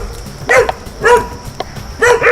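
Emaciated rescued dog letting out three separate sharp barks, each a short yelping burst spaced about half a second apart, loud and close in a quiet setting with no talk.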